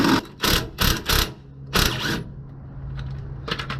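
Wrench turning on sway bar bracket bolts of a Chevy Silverado, with a 15 socket below and a box-end wrench above: bursts of ratcheting clicks, four quick runs then a longer one, followed by quieter faint ticks.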